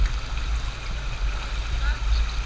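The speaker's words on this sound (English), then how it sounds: "It's really hard to cross a slippery river without Jimenez and a Carabao." A river flows steadily where a carabao is crossing, a constant low rushing wash with a faint hiss above it, close and even, no voices.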